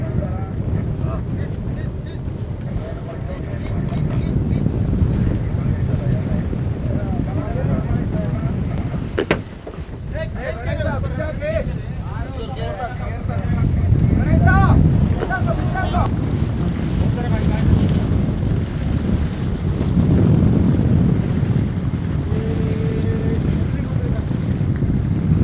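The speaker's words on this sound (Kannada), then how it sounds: "ಸಿಕ್ಕಾಪಟ್ಟೆ ಗಾಳಿ" Strong wind roars across the microphone on a deep-sea fishing boat at sea, a constant heavy buffeting rush with surging gusts and water noise, while people talk underneath.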